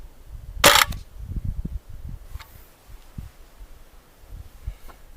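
A medieval 120-pound crossbow releases a 300-grain bolt in a single sharp, loud snap and thump near the start, followed by faint low rumbles and handling noise.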